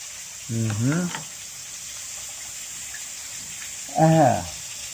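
Food frying in a pan gives a steady, loud sizzling hiss throughout, broken twice by short bursts of a nearby voice.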